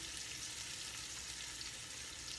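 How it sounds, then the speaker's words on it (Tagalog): Black pepper sautéing in a pan as the base for pork kaldereta gives a soft, steady sizzle and frying hiss throughout, faint and continuous with no talk. "nagigisa po ako ng paminta"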